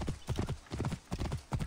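Horse hooves clip-clopping at a brisk gallop while riding in Assassin's Creed Origins, rhythmic groups of loud, close thuds repeating steadily.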